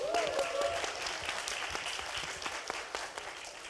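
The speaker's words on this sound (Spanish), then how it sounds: "Aplauso para Miguel." Audience applause for Miguel at an animation festival presentation, a steady wash of clapping from a crowd with a brief whistle near the start, fading gradually over a few seconds.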